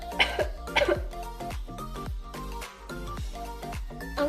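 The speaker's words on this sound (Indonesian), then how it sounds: "mari kita lihat cara batuk yang salah" A person coughs into the hand several times, giving sharp throaty bursts close to the microphone over a faint steady hum, with short pauses between the coughs.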